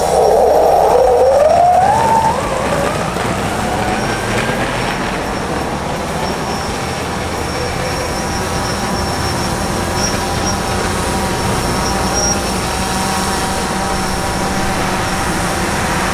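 An electric hub motor on a Raptor 2 rig, rated for 255 lbs, spins up with a brief rising whine, then settles into a steady hum with a faint high tone. The sound is loud and close.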